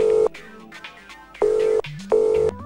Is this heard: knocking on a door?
no